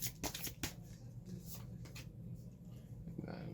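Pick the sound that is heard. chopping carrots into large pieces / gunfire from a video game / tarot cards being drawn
tarot cards being drawn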